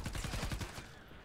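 Rapid bursts of gunfire from the video game Fortnite Save the World, a quick volley of close, loud shots in the first half second, then a fading tail.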